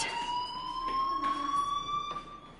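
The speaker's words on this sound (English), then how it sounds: "do you hear that fire alarm?" A fire alarm in a PS4 video game rings as a steady high electronic tone with faint overtones, sustained throughout over a low background rumble.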